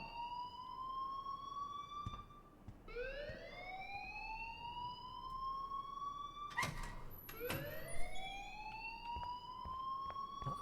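An alarm in the video game Life is Strange whoops with loud rising siren-like sweeps, repeating about every three to four seconds over a steady background.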